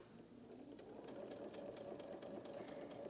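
A sewing machine stitches a quilt block, a quiet, steady mechanical whir with a rapid even rhythm, heard faintly and alone.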